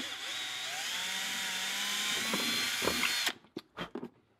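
An electric drill fitted with a small bit runs steadily and loudly for about three seconds while boring into a Husky Super Brute HSB4000 electric tongue jack, then cuts off, leaving a few faint clicks and knocks.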